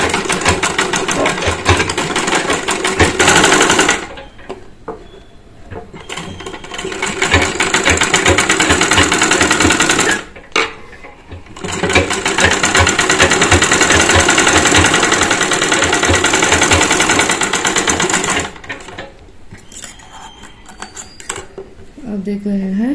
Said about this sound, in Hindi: हमने पट्टी के ऊपर स्टिचिंग कर ली है